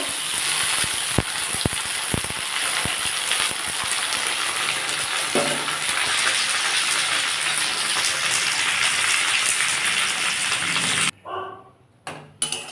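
Okra sizzles steadily in hot oil with dried red chillies for about eleven seconds, a dense crackling frying hiss with a few clinks, then it drops sharply into quieter, broken sizzling near the end.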